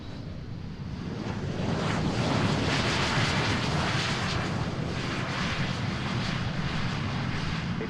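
A private jet touching down at Boeing Field, its steady broadband engine roar and rushing air filling the scene at a constant, fairly loud level throughout, with no talking.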